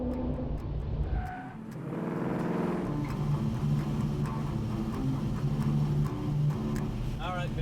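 A 1967 Chevy C10 truck with a big heavy front engine driving on the street, its engine roaring and revving loudly throughout, with someone talking over it.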